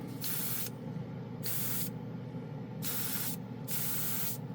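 An airbrush fitted with a spray gun nozzle sprays lacquer thinner from a compressor set to 30 psi, giving loud hissing bursts in four spurts of roughly half a second to a second each, close up and without talk.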